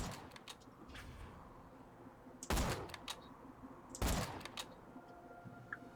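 Two sharp sniper rifle shots from the Borderlands 2 video game, spaced about a second and a half apart over a busy game soundscape of faint ambient effects.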